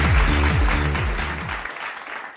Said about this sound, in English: Round of applause for him, everyone.